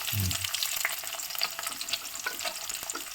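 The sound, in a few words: frying garlic and onions in a pan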